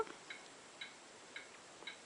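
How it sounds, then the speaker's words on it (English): A clock ticks in a quiet room, with four crisp, evenly spaced ticks about half a second apart, fairly faint and heard alone. "that's the clock ticking."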